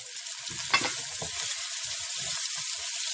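Lemongrass, herbs and chilies sizzle in a hot pan, a close, steady crackling hiss with a few scraping stirs and no talk.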